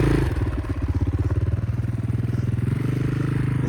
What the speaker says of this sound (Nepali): यो 4 स्ट्रोक इन्जिनहरू चाहिँ इमिसन अलिकति यता नआउँछ